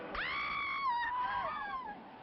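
A single sharp scream in the 1958 film Hercules, a high wavering cry that rises abruptly, holds for nearly two seconds, then breaks and trails off, fairly clear over a faint background.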